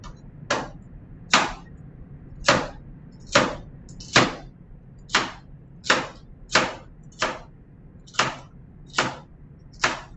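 A knife chopping celery on a cutting board in a home kitchen: about a dozen crisp, close thwacks at a slow, slightly uneven pace, with no talking.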